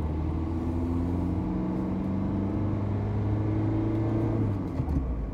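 A car accelerates along a French ring road, its engine rumbling steadily loud and close with rising and shifting whine as it gains speed, heard from inside the vehicle.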